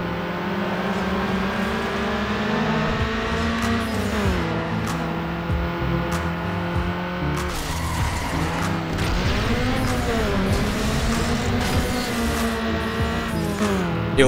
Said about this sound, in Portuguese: Arrancada sempre deliciosa desse carro.